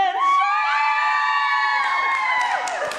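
A live audience of women screams and cheers loudly for three seconds, shrill sustained whoops layered into a dense, continuous roar.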